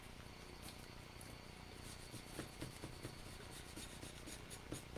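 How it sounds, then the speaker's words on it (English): Antique wax rubbed onto the edge of a raw wooden wall shelf with a baby wipe, a faint continuous rasping rub with soft rhythmic strokes, up close and with no voices. "I'm just going to put a little bit of wax on there, and I'm just going to rub it in on this edge"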